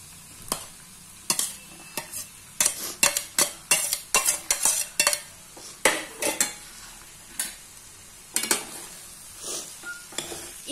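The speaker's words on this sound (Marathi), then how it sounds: "5 मिनिटांनंतर आपण आता जसे टाकणार त्याप्रमाणे हलवायचं देखील आहे" Kande pohe stirred in a pan: a series of sharp scraping, clinking strokes of a spoon against the pan, some in quick bursts, over a faint sizzle, with no talking.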